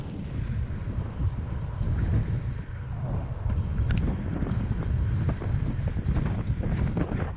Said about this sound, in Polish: co prawda wiatr silny wieje, ale taki tylnoboczny